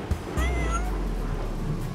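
A cat meows in the Turbo Pug video game, two short close cries in quick succession over a low, steady background hum.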